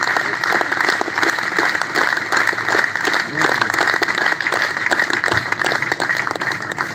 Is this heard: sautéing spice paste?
no